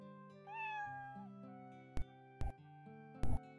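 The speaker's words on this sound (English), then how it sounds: "Don't go meowing that you're homesick." A cat gives a single drawn-out meow amid a quiet musical backdrop, followed by a few short sharp knocks.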